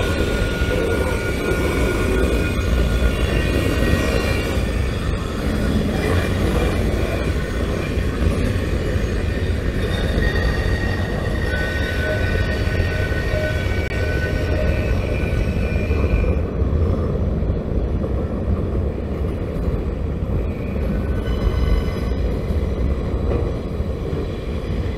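A train rumbles loudly and steadily close by as it slows and stops, a constant heavy roar with faint high metallic tones running through it.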